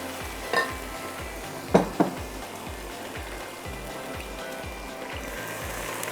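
A spoon scrapes and stirs through ingredients with coconut milk in a pan. The strokes repeat steadily under a soft sizzle, with a few sharper clinks against the pan near the start. No one speaks.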